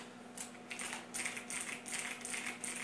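Steady typing on a Razer BlackWidow Tournament Edition 2014 mechanical keyboard: a close, crisp run of clicky keystrokes in irregular bursts, with no talking over it.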